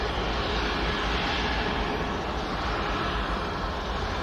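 An Icelandair Boeing 737 MAX taxis at Manchester Airport, its engines giving a loud, steady broadband roar that holds without a break and stays close, with no voices over it.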